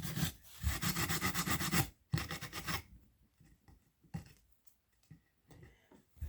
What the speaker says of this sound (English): I'm not doing a lot of sanding. It's his nose, but just a little bit to smoothen the wood out.